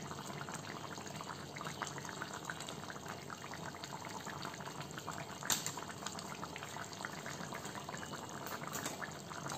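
Potatoes boil in a pot on the stove, with a steady, moderately loud bubbling and rolling churn of water that carries on evenly throughout, with no talking.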